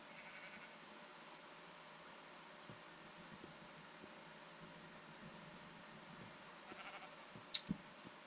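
Sheep bleating in the game Minecraft on a survival farm with cows, a soft sparse sound over a steady low background hum, with a brief sharper click near the end.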